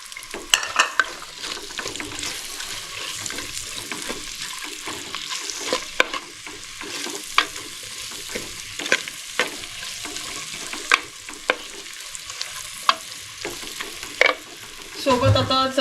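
Chillies and ground paste fry with seaweed vegetable in a pan, a continuous sizzle punctuated by sharp clinks and scrapes of a stirring spoon, building to a louder burst at the very end.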